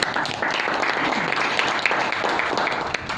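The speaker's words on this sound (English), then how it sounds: "Let's give Teck Chuan a big round of applause." Audience applause at a BNI business networking meeting, a dense, steady wash of many hands clapping that holds at an even level for the full stretch.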